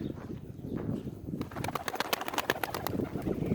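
Pigeons held in a cardboard box give soft, low cooing close by, followed by a run of sharper scratching and fluttering taps as the birds shift about inside.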